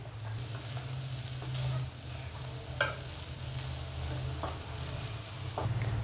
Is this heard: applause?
no